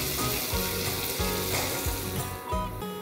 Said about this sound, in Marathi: बारीक चिरलेला कांदा, आणि मस्त सोनेरी रंग येईपर्यंत कांद्याला परतून घेऊया